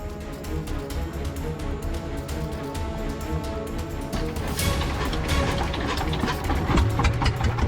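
An open boat's motor runs steadily and loudly up close on a river heading out to sea, a continuous churning drone with occasional knocks and rattles.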